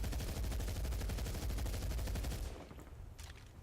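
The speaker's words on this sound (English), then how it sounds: "This is the AK-74, and I'm going to show you the recoil on this gun" An AK-74 rifle fires a rapid, loud automatic burst in the video game Medal of Honor Beta, with dense repeating shots for over two seconds that then stop and fade into a quieter tail.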